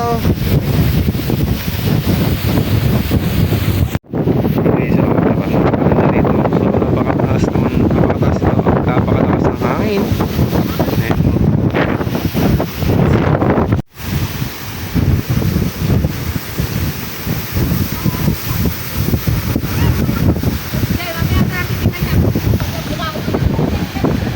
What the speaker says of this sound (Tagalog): Napakalakas ang hangin guys.